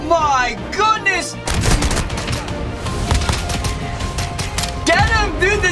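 Pistol fire in a shooter video game cracks out in a few sharp shots, with dense bursts of gunfire and game effects crowding the middle of the stretch and a voice heard briefly at the start and end.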